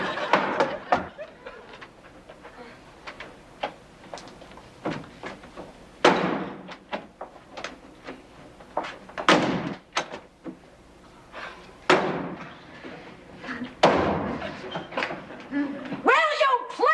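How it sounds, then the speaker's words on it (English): Doors banging shut in a home, several sharp thuds and slams spread out over the clip, heard under frequent talking and background sound. "will you please stop slamming the doors?"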